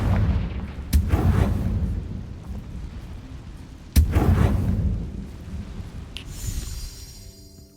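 Two Confringo spell explosions in Hogwarts Legacy, each a sharp loud crack followed by a booming, rumbling decay, a few seconds apart, then a ringing chime-like tail.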